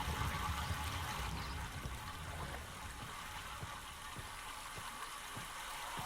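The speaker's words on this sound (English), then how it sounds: "So now we got water moving through here." Water rushes through pipes in Myst VR as a steady, close hiss and gurgle of flowing liquid, with faint mechanical ticks and clanks scattered through it and no talking.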